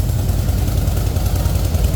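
A 2008 Harley-Davidson Fatboy's stock Harley exhaust idles close by in a deep, steady, throbbing rumble with a continuous even pulse and no talk.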